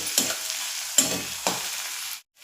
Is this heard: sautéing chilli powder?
yes